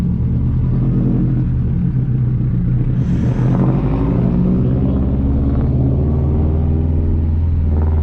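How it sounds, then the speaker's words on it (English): Modified 2004 Subaru STI engine heard from inside the car, a loud, deep, continuous rumble that builds slightly as it pulls along, with no voices over it. "the car has gotten a lot louder. Like, a lot. Like, it's noticeably, oh god, it's noticeably louder"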